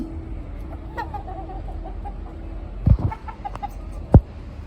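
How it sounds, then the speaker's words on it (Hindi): Aseel chickens clucking softly nearby, with a few sharper calls and scattered thumps, no voices. "ये हम लोग इस मुर्गी के साथ बहुत सारी मुर्गियां लेकर आए थे, मियाँवाल थी, लखा थी, फुलिया थी उसमें"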